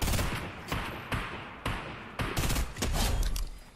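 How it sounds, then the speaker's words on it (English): Several players trade gunfire in Fortnite, with sharp, loud shots landing in an irregular rhythm and a quicker flurry near the end, without talk. "There's more people shooting over here."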